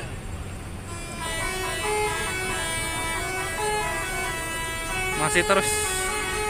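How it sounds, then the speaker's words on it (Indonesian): A telolet horn on a tour bus at a crowded gathering of about 1,100 people and 30 buses gives out sustained, tuneful multi-tone toots under steady crowd noise and nearby talk, with brighter bursts near the end. "Nah, itu masih aduh mekanik telolet."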